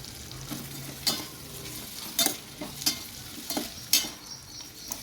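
Sliced onions with salt sizzle in a pan for a mutton gravy while a spoon stirs them, with steady frying hiss and several distinct scraping strokes close up, with no talk.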